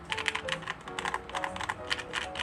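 Typing on a newly built mechanical keyboard, a soft, steady patter of close keystrokes in quick irregular bursts, gentle rather than clacky, with no voices.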